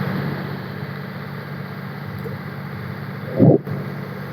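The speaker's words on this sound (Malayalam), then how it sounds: "ഞാനിപ്പോ ഒരു ബോട്ട് യാത്ര നടത്തിക്കൊണ്ടിരിക്കുകയാണ്." A government passenger ferry on a morning trip toward Kottayam runs its engine in a steady, low, continuous drone, with a brief louder burst near the end.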